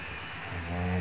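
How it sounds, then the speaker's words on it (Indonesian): A farm tractor engine runs during field preparation before corn planting, giving a steady low mechanical drone with a tonal hum that rises slightly in pitch and grows louder toward the end. "Ini traktor sebagai sahabat dari zaman dahulu kala."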